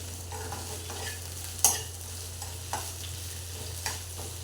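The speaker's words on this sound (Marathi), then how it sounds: "भेंडी फ्राय करताना मोठ्या आचेवरती फ्राय करावी" Okra frying in oil in a kadhai over high heat, a steady soft sizzle broken by occasional scraping clinks of a spatula stirring, close and moderately quiet with no talking.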